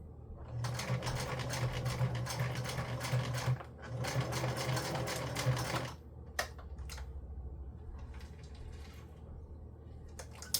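A sewing machine stitches through the pages of a junk journal using very old thread, running in two steady, rapid bursts of mechanical chatter before giving way to a few quieter clicks and handling sounds.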